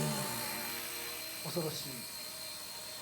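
A Blade Nano CP S RC helicopter hovers on a windy typhoon day, its steady high motor and rotor whine running throughout beneath a voice, with a brief louder burst of talk in the middle.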